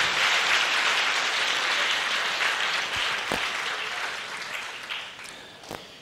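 A church congregation in Côte d'Ivoire applauding, steady dense clapping that slowly fades over several seconds, with a few sharper single claps near the end.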